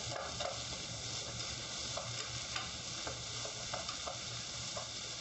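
Frozen vegetables stir-fry in a pan with a continuous soft sizzle and occasional light scrapes of stirring, fairly quiet and even throughout.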